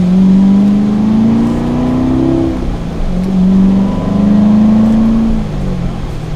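Chevrolet Corvette C7 with a manual clutch accelerating gently in stop-and-go traffic, heard from inside: a loud steady engine drone rising in pitch through two pulls, with a shift dip between them and no talking.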